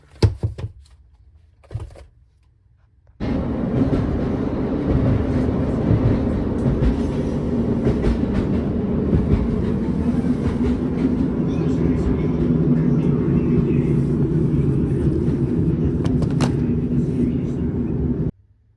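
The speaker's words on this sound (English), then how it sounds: "that little clip on the train" Interior of a moving train: after a few brief knocks and near silence, a loud, steady rumble of wheels and carriage noise rises and rolls on continuously before cutting off near the end.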